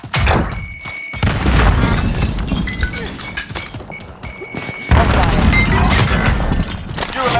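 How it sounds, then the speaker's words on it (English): A grenade blast erupts in Warzone gameplay, with loud thudding booms and crashing debris among clinks and gunfire, then a second heavy burst, under game voice callouts. "Grenade out."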